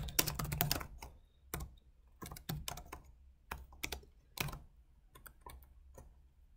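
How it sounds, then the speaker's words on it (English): Fingers type on a laptop keyboard in irregular bursts of crisp clicks, with a dense flurry at the start and then scattered keystrokes and short runs. The sound is close and fairly quiet, with no talking. "I'm a little bit slow on my laptop keyboard too"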